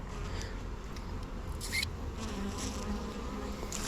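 A dense, steady buzz of many honeybees close by on hive frames, continuous droning with occasional brief scraping sounds.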